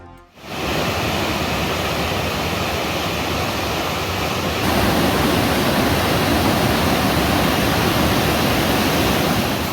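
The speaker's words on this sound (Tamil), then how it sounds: "தொடர் மழை காரணமாக தேனி கும்பக்கரை அருவியில் கடும் வெள்ளப்பெருக்கு." Kumbakkarai falls in Theni is in heavy flood after continuous rain, and it gives a dense, unbroken roar of rushing water. The roar starts abruptly, holds steady and grows slightly louder midway, with no voices.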